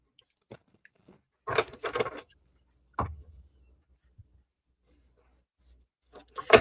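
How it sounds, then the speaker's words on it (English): Tarot cards are shuffled close by in a quiet room, giving a few short bursts of riffling and snapping with pauses between them. "Sorry if my shuffling's loud."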